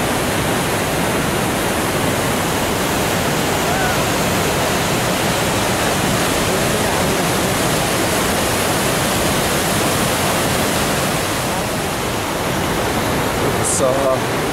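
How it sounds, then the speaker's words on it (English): Steady rushing roar of a waterfall on a mountain trek in the Rupin and Supin valleys, broadband and constant throughout, loud and close with no other sounds standing out. "here a really nice waterfall"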